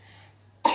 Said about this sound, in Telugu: అబ్బో దగ్గు వచ్చిందా?